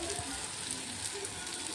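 Black masala with tomato sautéing in a pan, an even close sizzle with soft stirring scrapes, constant and moderately quiet.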